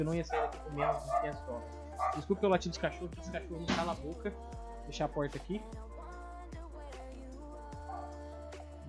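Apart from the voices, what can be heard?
dogs barking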